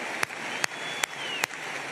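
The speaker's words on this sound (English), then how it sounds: "I had to clap for you guys" A single person on stage at the AIPAC Policy Conference claps four times, slow and evenly spaced, each clap sharp and distinct above a steady hum from the large hall.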